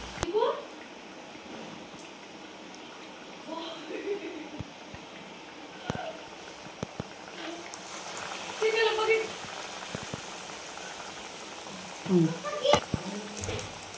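Dough pieces frying in hot oil, a steady low bubbling sizzle running throughout with occasional louder crackles, while someone talks over it.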